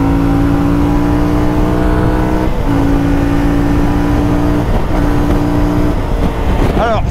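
A CFMOTO 450 MT motorcycle at full throttle on a highway on-ramp gives a loud, steady engine drone with rising revs, wind noise throughout and a brief upward sweep near the end.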